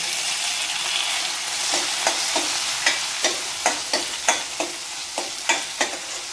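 Tomatoes tossed into onions already softened in a frying pan, with a steady sizzle and a series of regular scraping stirs that grow more distinct toward the end, close and fairly quiet with no talking.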